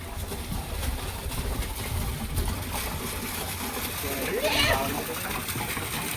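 A waterfall splashes with a steady, full rushing wash of water that fills the whole stretch, with voices and outdoor bustle mixed in underneath.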